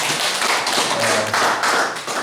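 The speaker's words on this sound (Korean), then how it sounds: "우리 박수 한번 합시다." A church congregation at a Christmas worship service gives a brief burst of dense clapping that stays fairly even and close throughout.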